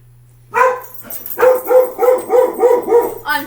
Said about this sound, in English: The dog started barking at stuff